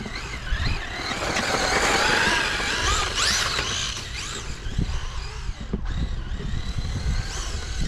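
An HPI Baja 5T RC truck running on 8S LiPo power drifts through snow with limited traction, its electric motor whining loudly and continuously, rising and falling with throttle alongside crunching tyre noise.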